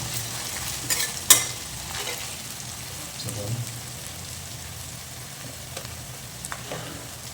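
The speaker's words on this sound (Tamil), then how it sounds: "நம்ம இதில் பச்சை மிளகாய் போட்டுக்கணும். அப்படியே நல்லா வதங்கிட்டோம்." Green chillies frying in a little sunflower oil for an egg gravy: a steady, soft sizzle with a few sharp crackles and light stirring knocks, close and moderately quiet.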